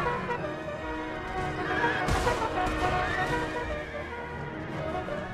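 Light horse cavalry in Empire Total War charges amid battle noise, with horses whinnying and hooves pounding under a dense, continuous roar of combat and a loud burst in the middle.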